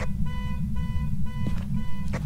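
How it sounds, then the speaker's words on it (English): An alarm goes off in a horror video game set in a house with a garage, a repeating electronic tone sounding in steady bursts over a constant low rumble, with brief clicks. "Alarm's going off."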